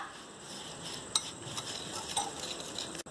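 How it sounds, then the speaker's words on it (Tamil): Custard powder, cocoa powder and sugar being stirred together in a bowl, a soft continuous scraping with a few light clinks of the spoon against the side, close and quiet with no talking. "இப்போ இதை நம்ம ஒரு மிக்ஸ் கொடுத்துடலாம்."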